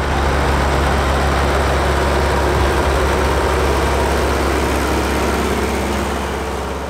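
A 1965 Schlüter S650 four-cylinder tractor engine runs steadily at a field day, a constant low heavy drone with a rough diesel texture, close and loud, with no voices over it.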